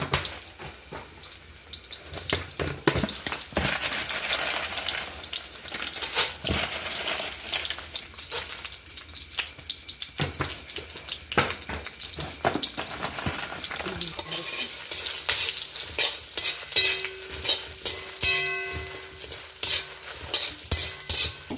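Chillies sizzle in a pan for a colocasia-leaf chutney while a utensil stirs with frequent sharp scrapes and taps, close by, with faint voices and a high tonal beep or whine late on.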